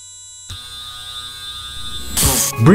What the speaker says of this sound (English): a short code that rotates the stepper motor for a while, then it stops and rotates backwards for a while and repeats this forever